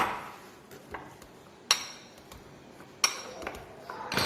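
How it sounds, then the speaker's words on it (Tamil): Boiled potatoes are mashed in a dish, with soft squishing broken by a few sharp metallic clinks of the utensil striking the dish. "ஸோ உருளைக்கிழங்கு மசிச்சாச்சா."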